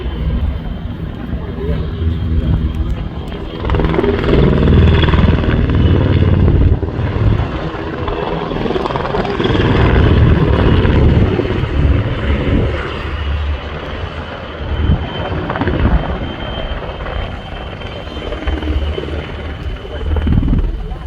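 Two W3A helicopters at an airshow make a loud, continuous rotor and engine roar that swells and fades as they manoeuvre and land, with a commentator's voice running over it.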